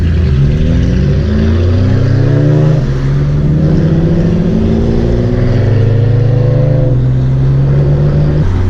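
A car fitted with a loud Tomei exhaust accelerates through a tunnel during a poker run in Okinawa, its engine note rising in repeated sweeping pulls, close, loud and booming, with no talk.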